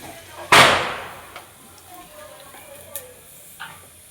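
Onions hit hot oil in a pan for a paneer dish at home, giving a sudden loud sizzle that quickly fades. A few faint clinks and stirring sounds follow in the quiet.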